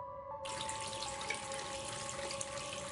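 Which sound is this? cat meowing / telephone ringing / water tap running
water tap running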